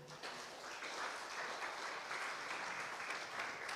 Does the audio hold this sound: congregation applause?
yes